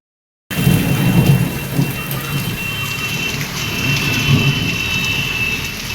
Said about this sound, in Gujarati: આ વરસાદ પડી રહ્યો છે અને વરસાદની સાથે સાથે તમે જોઈ શકો છો કરા પડે છે